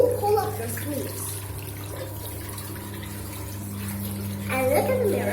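Tap water runs steadily at a sink during handwashing, a soft continuous wash under a low steady hum, with someone talking briefly at the start and again near the end.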